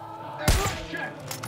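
A single heavy gunshot in Far Cry 5 cracks out with a deep thump, then rings and fades over a low hum of game ambience.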